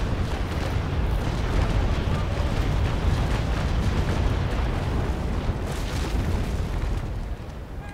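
Ship cannons fire in a video game naval battle. The result is a dense, continuous roar of booming blasts that stays loud and unbroken for several seconds and then eases slightly at the end.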